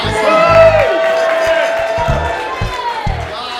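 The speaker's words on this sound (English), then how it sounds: "Everybody clap this" An audience at a live radio show clapping and cheering, a loud crowd burst with whoops near the start that settles into scattered claps and hoots, heard up close.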